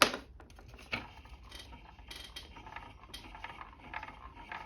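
A handmade wooden automaton driven by a cam follower closes its head and raises an arm holding a toothbrush. Steady close-up clicking, ratcheting and gear clatter runs throughout, with a few sharper knocks.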